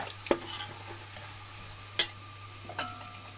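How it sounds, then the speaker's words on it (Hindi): Garlic paste being fried in a pan, heard as a faint, quiet sizzle with a few distinct stirring scrapes and clicks of a utensil against the pan, and no one speaking. "अब मैंने लहसुन को भून लिया है।"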